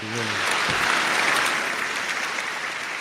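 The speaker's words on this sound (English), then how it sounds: "let me give them an applause" Applause sound effect played on a podcast: a burst of clapping and cheering starts right away and holds steady at a loud, close level for a few seconds.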